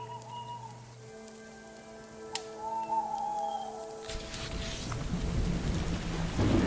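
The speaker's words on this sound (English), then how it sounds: "Lightning zapped and thunder clapped, and it began to pour." A sharp thunderclap cracks, and then heavy rain comes pouring down, swelling into a loud, dense roar that grows stronger toward the end.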